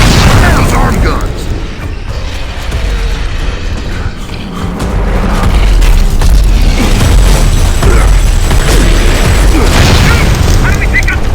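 Arm-mounted guns on a giant boss creature in Gears of War fire in heavy, booming bursts and explosions that pile up into a loud, continuous barrage of blasts and rumble without letting up.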